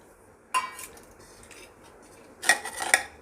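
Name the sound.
mixing sabudana with potato and peanut powder in a bowl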